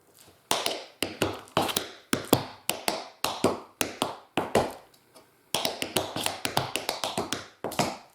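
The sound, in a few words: tap dance shoes performing count riffs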